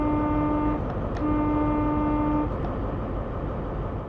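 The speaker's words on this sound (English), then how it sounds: "I'll honk at him." A steady two-tone train horn sounds in the Train Sim World video game, holding a long blast, breaking off briefly, then sounding again over a constant rumbling engine bed, loud and close with no talking.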